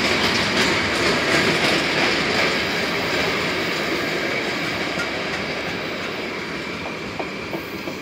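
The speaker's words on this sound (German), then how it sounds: "Ja, Leute, jetzt kommt die Lok." A freight train pulls away from Rosenbach station, a loud steady rumble of rolling wagons with rhythmic clickety-clack from the wheels and faint squeals, gradually easing as it departs.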